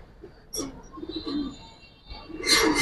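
Giribaz pigeons coo softly at close range, giving a couple of low, throaty calls over quiet background noise, with a brief brighter chirp near the end.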